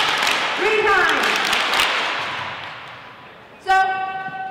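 Middle school students in an assembly clap together in a loud, dense burst that fades over a couple of seconds. A brief tonal blast follows, and a voice speaks.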